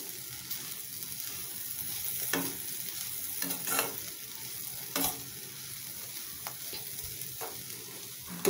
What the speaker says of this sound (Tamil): அப்பப்போ கிளறி விட்டுட்டே இருக்கணுங்க, அடி பிடிக்காமல் பார்த்துடுங்க